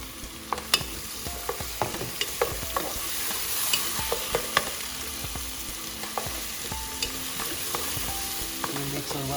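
Cut tomatoes and green chilies fry in a pan for lauki (ghiya) sabji, a steady close sizzle broken by frequent sharp scrapes and clinks of a spoon stirring against the metal.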